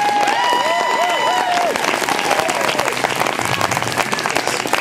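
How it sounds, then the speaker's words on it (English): An audience at a speech about a depleted uranium plant in Jonesborough, Tennessee bursts into dense, sustained applause with scattered cheers and whistles, loud and close throughout. "Yes, cheer for that."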